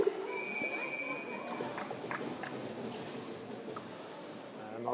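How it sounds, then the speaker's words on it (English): At an under-18 hockey game, a referee's whistle sounds one short, thin, high tone early on. It sits under constant arena crowd noise and play-by-play commentary. "And they'll blow the whistle."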